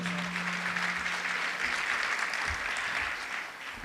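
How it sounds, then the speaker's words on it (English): Applause from a crowd at a community health service anniversary celebration, sustained even clapping from many people, moderately loud, with a low hum underneath early on. "big round of applause"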